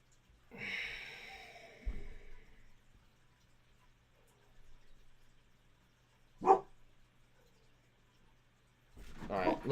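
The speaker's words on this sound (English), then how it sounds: "making some really weird barking sounds" Lucky, a dog, lets out odd snorting, breathy bark-like sounds, one strained vocal burst near the start followed by a short sharp huff midway and another at the end, close and fairly soft against a quiet low hum.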